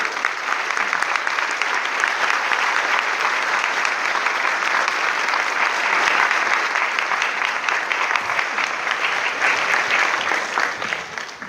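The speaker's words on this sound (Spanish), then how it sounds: "Quiero que recibamos al doctor Armando Altusi con un fuerte aplauso" An audience claps steadily to welcome a doctor to the stage for a talk on the Apocalypse. The dense, loud applause lasts the whole stretch and eases slightly at the very end.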